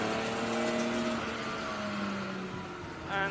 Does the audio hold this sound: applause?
no